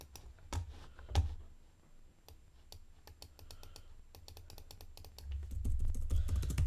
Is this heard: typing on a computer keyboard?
yes